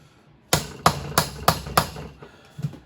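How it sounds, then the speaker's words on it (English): Metal hammer strikes drive a socket into a screw head while a Stihl 090 chainsaw is being built: five sharp, evenly spaced blows, then a lighter tap a moment later, close and loud with no talking. "Pound that socket in there."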